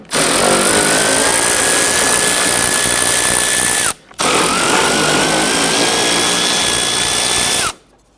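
A power drill drives out headlamp assembly bolts with an 8mm or T30 Torx bit on a 2011-2023 Dodge Charger 3.6L V6. Two loud, close, steady whirring runs of about four seconds each are separated by a brief pause, with no talking.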